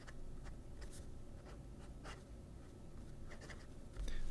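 An ADMOC M400 fountain pen with a Schmidt flex nib scratches softly across paper, its strokes coming as short, faint, irregular bursts over a quiet background.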